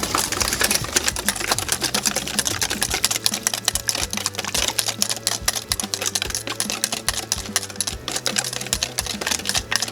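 Butterscotch pudding mix whisked in a bowl makes a continuous rapid clicking and tapping rhythm, close and fairly loud, with no pauses.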